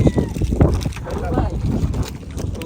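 A motor trawler boat runs on a wide river among the sandbars of the Padma and Jamuna, its engine a rough steady rumble with wind buffeting the microphone and water sloshing.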